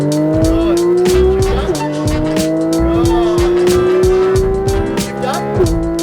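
A supercar on a race track accelerates hard, its engine note climbing in steady rising sweeps broken by quick gear shifts, with loud tire squeal from drifting and an instructor's voice speaking over the close, continuous roar.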